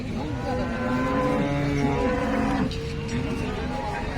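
A long, low cow moo rises and fades over steady outdoor background noise at a cattle market in Sangola, Maharashtra, followed by a second, quieter lowing.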